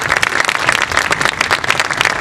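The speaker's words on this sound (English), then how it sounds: "let's give them a big round of applause" Dense, loud applause from a crowd gathered at an outdoor AT&T mural restoration event, a continuous wash of many hands clapping close by with no break.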